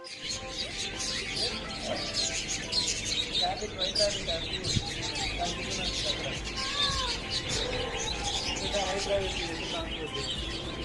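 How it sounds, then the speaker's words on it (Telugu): Small pure-white birds chirp and tweet in a steady busy chorus, close by, over continuous background murmur and noise. "వైట్ కలర్ బర్డ్స్ ఉన్నాయి"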